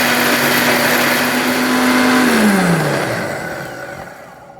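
A Bosch Truemixx Bold MGM4334BIN mixer grinder dry-grinds spices at full speed, a loud, close, steady motor whine that spins down with falling pitch and fades at the end.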